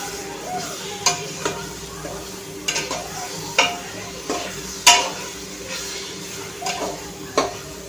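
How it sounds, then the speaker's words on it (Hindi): Masala for matar pulao frying in a pan, a steady close sizzle with repeated spoon scrapes and clinks against the metal at irregular intervals, no talking. "अब हम इसे 2 मिनट तक फ्राई होने देंगे।"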